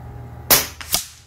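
A .25 Avenger air rifle fires a 26.8-grain slug at 100 yards: one sharp, close crack followed by a fainter second report from the distant impact or echo, alone in quiet.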